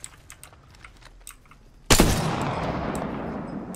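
Gunfire erupts in the Apex Legends video game, starting as a sudden loud burst after faint clicks and continuing as a dense sustained barrage that slowly fades.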